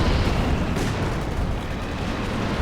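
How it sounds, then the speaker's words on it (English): A Stuka bombing barrage in Company of Heroes 2 pounds down as a heavy, continuous roar of overlapping explosions and rumbling impacts, loud and close, with no break for almost three seconds. "There's Stuka barrage coming in here."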